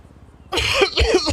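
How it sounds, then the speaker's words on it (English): A single person's cough bursts out after a quiet half second, loud and close, with a rough throaty burst followed by a shorter second hack; it comes amid a police roleplay game session. "God, I had a cough"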